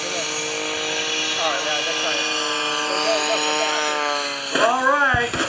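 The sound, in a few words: airshow plane afterburner pop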